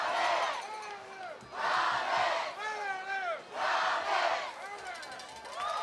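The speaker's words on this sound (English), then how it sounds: "listen to the famed Comets chant" Stadium crowd at a high school homecoming football game at Nixon Fowler Stadium performing the Comets chant, rising and falling in loud rhythmic waves of massed voices, with a commentator talking over it.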